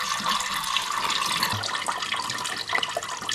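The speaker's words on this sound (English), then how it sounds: "So basically, let it drain in this position for now." Antifreeze coolant drains out of an Opel Astra G cooling system after the drain plug is loosened, a brief, steady close trickle and splash of liquid running out.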